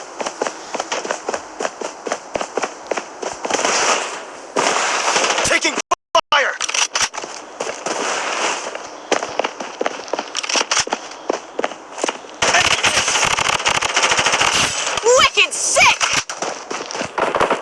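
Rapid bursts of gunfire crackle throughout, layered over busy action and footsteps in the video game Blood Strike during a ranked match, with a voice talking over parts of it.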